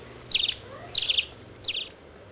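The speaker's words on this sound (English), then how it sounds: "birds." Three short bursts of high, rapid bird chirps spaced about half a second apart, clear and fairly close over a quiet low background hum.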